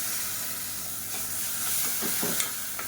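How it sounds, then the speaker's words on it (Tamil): Blended tomato puree poured into hot oil in a pan for a Tamil kuzhambu, giving a steady close hiss and sizzle with a few stirring scrapes and no talk. "இப்போ மீடியம் சைஸாக ஒரு மூணு தக்காளி மிக்சியில் அடித்து வச்சுக்கிறத சேர்த்துக்கலாம்"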